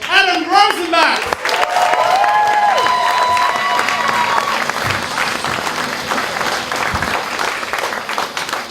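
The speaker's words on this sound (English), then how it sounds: "So please go mental, start clapping, and welcome to the stage, Adam Rozenbachs." A comedy club audience breaks into loud, sustained applause and cheering for stand-up comedian Adam Rozenbachs taking the stage, the clapping dense and continuous, preceded briefly by an amplified host voice and music.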